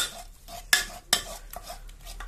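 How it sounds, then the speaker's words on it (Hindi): Maize flour is stirred into stinging nettle saag, a Himachali Pahari dish, with soft scraping strokes and two sharp utensil knocks against the pot. No one speaks. "इसी तरह हल्के हल्के इसको चलाते जाना है।"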